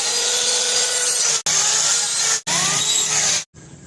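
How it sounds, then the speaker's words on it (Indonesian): A circular saw rips through a cardboard box in three long, loud bursts of harsh grinding, each cut ending in a brief pause before a quieter final stretch. "Kita akan unboxing menggunakan gergaji circle."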